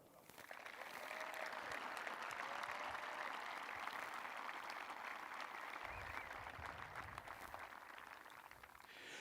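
A large graduation audience applauds to welcome the school superintendent to the podium, a broad, continuous wash of clapping that stays steady and full throughout, with no talk over it.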